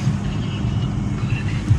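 A car driving along a road toward a water park, with a steady low engine and road rumble plus wind buffeting throughout, close and continuous.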